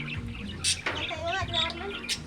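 A cockatiel or lovebird chirps and whistles in short warbling phrases, close by, over a low steady background hum with some faint voices.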